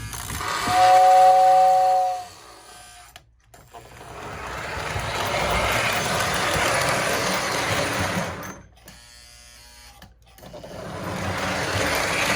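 A Lionel model train whistling tender blows a sustained tone for about two seconds, followed by whirring motor and gear noise that stops and starts.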